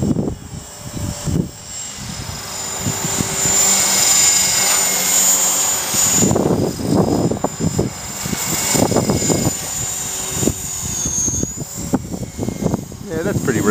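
A Mini Cylon RC helicopter running on idle up one with its governor holding a steady high engine and rotor whine through the whole clip, close and loud, with a person talking over it.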